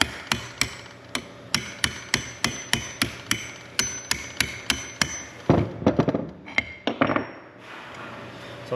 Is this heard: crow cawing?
no